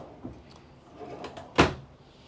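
A deep drawer slides and knocks shut twice, the second bump louder, in a quiet room aboard a 2017 Sabre 365 boat.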